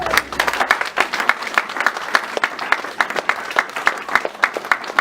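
A church congregation at a Sunday service applauds together, many hands clapping loudly in a fairly even, rhythmic beat that fills the room throughout, with no speech over it.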